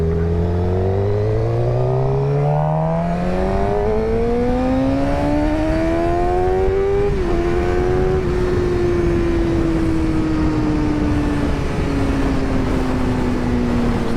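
A 2023 Suzuki GSX-R600 sport motorcycle accelerates at three-quarter throttle. The engine note climbs steadily through the gears with brief dips at each shift and is loud and close throughout, with heavy wind rush and no talking.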